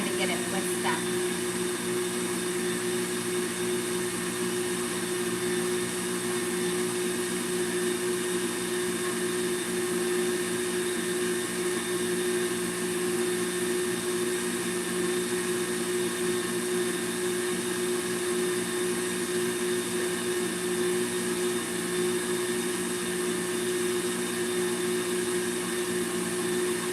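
An electric mixer whisks a small batch of macaron meringue while sugar is added slowly, giving a steady, even motor whine that holds unchanged for almost half a minute, close and loud.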